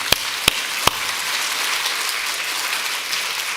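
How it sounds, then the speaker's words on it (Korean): A church congregation at a Korean worship service bursts into applause. Three sharp separate claps ring out first, then give way to a steady, even wash of many hands clapping. "믿으시면 박수로 영광 하나님 앞에"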